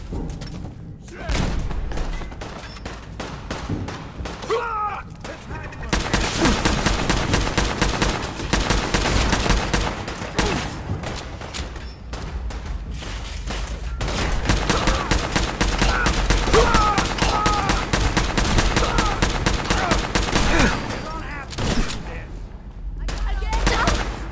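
Gunfire from the video game Fallout 4 crackles in dense, sustained bursts and rapid volleys with heavy thuds, loud and continuous, while voices shout over the fighting.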